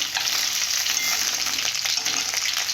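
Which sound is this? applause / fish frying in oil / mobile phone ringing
fish frying in oil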